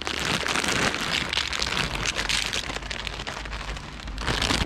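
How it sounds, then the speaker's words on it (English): Steady rain patters on surfaces outdoors, a dense continuous hiss with scattered drop crackles throughout, fairly loud and uninterrupted, with no talk. "We're dodging the raindrops."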